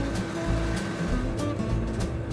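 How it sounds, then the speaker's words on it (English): Grain pouring from a combine harvester's unloading spout into a wagon on a farm, a dense continuous rushing hiss with a low machinery rumble underneath, steady and close for the whole stretch. "Look at the grain pouring out of my spout."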